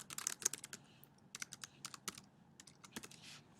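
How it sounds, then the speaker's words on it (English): Typing on a computer keyboard, a quiet irregular run of sharp clicking keystrokes with brief pauses between bursts. "we'll type in for this one the American Revolution"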